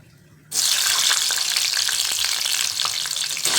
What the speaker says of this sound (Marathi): आपल्याला आता मिरच्या तळून घ्यायच्या